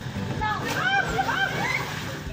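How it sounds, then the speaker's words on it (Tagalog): Cold spring water splashes and sloshes at a waterfall in Virac as children dive and wade. The splashing is constant and lively, with excited voices and chatter mixed in throughout. "Tilamsik pa lang ng tubig sa bukal, nakaka-refresh na."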